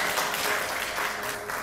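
Clapping from a studio audience on a Hindi TV health and yoga show, a dense steady patter filling the short moment without a pause.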